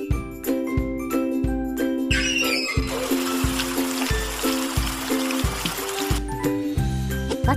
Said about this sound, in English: Now fill the can with water.